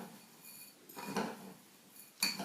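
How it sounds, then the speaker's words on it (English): Bath soak mixture stirred in a container, a few soft scraping and clinking strokes in quiet, close and faint, with two brighter clinks. "And just give that a good stir through."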